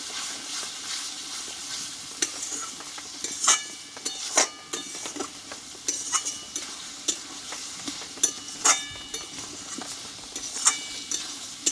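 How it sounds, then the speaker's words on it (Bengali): Spice paste for a Bengali mutton curry being sautéed and stirred in a pan, with a steady soft sizzle broken by repeated scraping strokes of a spoon against the pan at close range, with no talking. "মশলাটা কিন্তু আমি আমার মতো করে কষিয়ে নিয়েছি"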